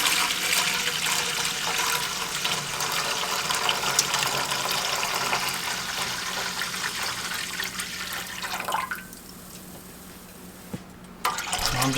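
Apple cider vinegar and water pour steadily into a pot for pickle brine, a continuous close splashing rush that runs for several seconds, thins out near the end, then briefly resumes.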